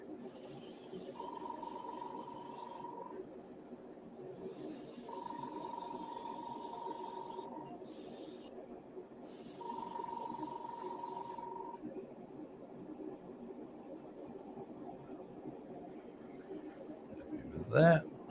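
An airbrush sprays paint at a hobby bench while a 1/72 Revell B-17F scale model is worked on, giving three steady bursts of bright hiss separated by short pauses, with faint voices and background noise between the bursts.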